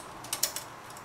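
Paper bail of an Olivetti Studio 44 typewriter being moved, three quick faint metallic clicks in close succession within a second, otherwise quiet.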